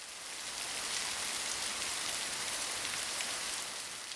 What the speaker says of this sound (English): It rains up here in Washington.